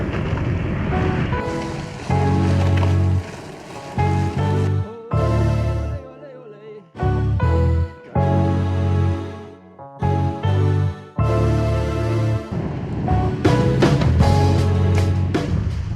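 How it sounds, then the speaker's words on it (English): A strong afternoon headwind buffets a cyclist on the Eurovelo 7 route in Italy, producing loud, gusty roaring wind noise on the microphone that surges and drops in uneven bursts. "the killer afternoon headwind is back again"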